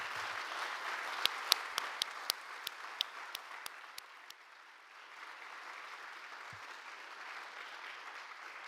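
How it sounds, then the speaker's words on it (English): An audience gives a faint, fairly distant round of applause at an award ceremony, with a few sharper nearby claps early on before the clapping fades to a low hush. "we would all give her a round of applause"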